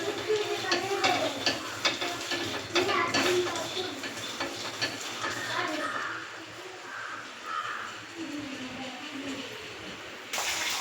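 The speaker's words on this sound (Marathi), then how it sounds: "हे टाकले शेंगदाणे भाजायला." Peanuts roast in a pan, with a soft dry sizzle and repeated scraping and rattling as they are stirred. Quiet voices murmur in the background partway through.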